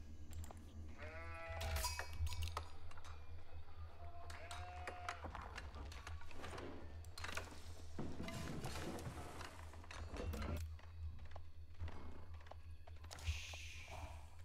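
Sheep bleat in the Age of Empires IV strategy game, several short wavering calls scattered among game thuds, clicks and ambient effects at a low, steady level.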